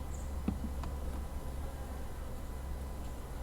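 Honeybees from an opened backyard hive in a subarctic setting, a steady close buzzing drone with a few individual bees zipping past the microphone, no voices.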